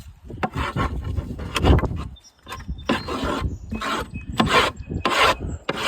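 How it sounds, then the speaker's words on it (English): A piece of angle iron scrapes something out in rough, rasping strokes, about seven close bursts with short pauses between them. "That's just a piece of angle iron that I picked up to scrape this thing out with."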